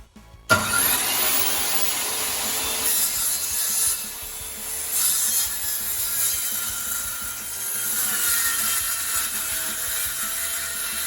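Sawing through plywood and masonite, a steady, loud, close rasping grind that runs continuously for about ten seconds with no talking.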